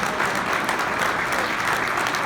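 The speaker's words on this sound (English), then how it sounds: "Round of applause for Jimmy." Dense, sustained applause fills a hall after a speech at an awards event, many hands clapping steadily and loudly without a break, with no talk over it.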